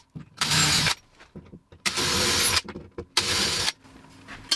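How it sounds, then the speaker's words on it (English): A power drill bores a pilot hole into a wood wall for a TV bracket's wood screws, three loud close whirring bursts of about half a second to a second each, separated by short pauses. "just going to do a quick pilot drill there so my wood screws can go in without splitting anything"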